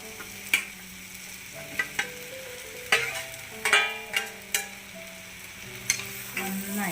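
Okra frying in a pan sizzles softly while a spoon stirs it, clinking against the metal in irregular taps close to the microphone.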